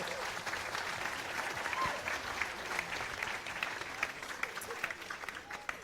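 Audience applause and cheering at a college sailing national championship awards ceremony, a sustained wash of clapping with scattered sharper claps and crowd noise, steady from start to finish.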